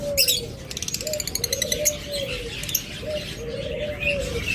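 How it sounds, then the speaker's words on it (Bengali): Creamino pet birds kept for sale chirp and tweet in bright repeated bursts, with a steady low cooing running underneath, close and fairly loud throughout. "যারা ক্রিমিনো পাখি পছন্দ করেন,"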